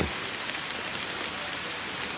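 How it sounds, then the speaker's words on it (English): Steady rain falling and pattering on surfaces at a deer hunting camp, a dense even hiss with no voices, constant and fairly close throughout. "the rain has certainly picked up"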